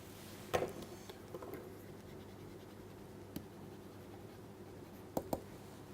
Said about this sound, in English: let me write the final summary here